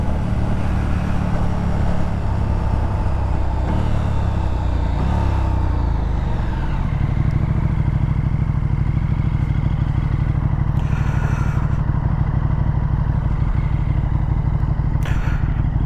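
A 2020 KTM 1290 Super Duke R on the move in cold weather, its engine a loud continuous drone with shifting pitch as it rises and settles, mixed with road and wind roar, heard alone throughout.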